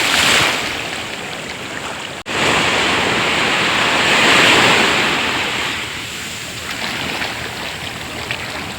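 Sea waves breaking on a beach at Mangalore, Karnataka, a loud, continuous rushing surf that swells and eases, with one brief break in the sound partway through and no talking.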